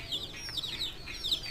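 Chicks and hens clucking and peeping in a farmyard shed at morning, with repeated short high chirps and soft clucks in quick succession, close and moderately loud without talk.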